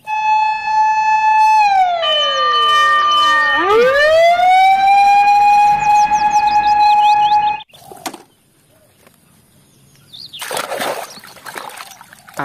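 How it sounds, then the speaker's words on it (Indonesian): A loud toy fire truck siren wails, dipping in pitch midway before steadying, then cuts off, followed by faint clatter and a short rushing noise. "Wow, yang ini truk pemadam kebakaran."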